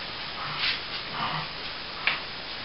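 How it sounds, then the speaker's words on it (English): A dog starting to bark indoors, a few faint, soft yips and whimpery barks spaced apart at a distance, with one sharper sound near the end. "that will be my dog starting to bark"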